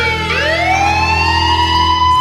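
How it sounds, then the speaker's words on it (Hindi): A loud wailing ambulance siren rises and sweeps steadily, holding a continuous high tone with engine rumble beneath it throughout. "दूसरा एम्बुलेंस भी आ गया"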